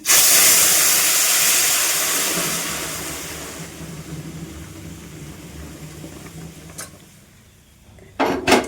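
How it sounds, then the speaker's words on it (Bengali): Thin boiled lentil dal poured into a hot spice tempering of radhuni gives a loud, steamy hiss at first that slowly fades over several seconds, with a brief clatter near the end. "এই ডালটা এখন আমি এই ফোড়নের মতো দেব, পাতলা করে ডাল"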